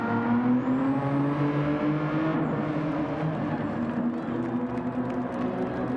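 A race car runs a lap in Gran Turismo 7 with a steady, droning engine note that rises slowly in pitch, loud and continuous throughout.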